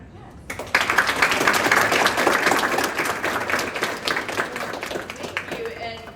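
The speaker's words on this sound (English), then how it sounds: "let's give her a round of applause" An audience at an aerospace academy gathering bursts into applause for Congresswoman Jen Kiggins, a loud sustained round of clapping that tapers off near the end as a voice begins.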